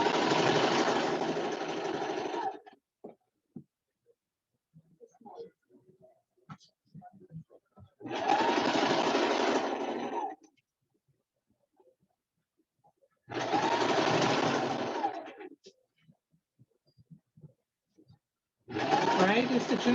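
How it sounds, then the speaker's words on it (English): A sewing machine stitches curtain fabric in three long, steady runs, each a few seconds, with pauses between them filled by faint handling noises and brief talk. "you're stitching all the way down."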